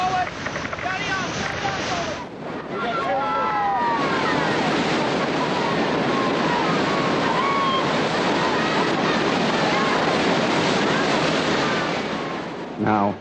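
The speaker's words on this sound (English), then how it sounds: "a small rubber raft when it's being tossed from wave to wave in the grip of a ferocious river like" A rubber raft tossed through the rapids of the Brahmaputra River, with a constant rushing roar of churning water and wind buffeting the microphone, and faint shouted voices in the mix.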